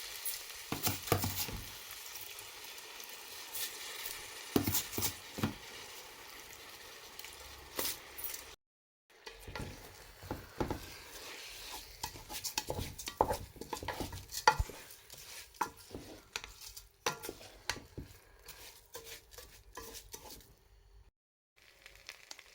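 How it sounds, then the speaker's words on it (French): Rice is poured and stirred into a pot with spices and seasoning for chicken rice, giving a long run of soft sizzling, rustling and scraping with brief pauses. "Maintenant, je vais venir rajouter le riz."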